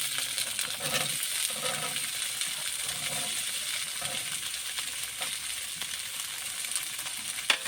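Batter mixture sizzling in hot mustard oil with reddened onions, a steady frying hiss with faint stirring clicks, fairly quiet and continuous, no voices.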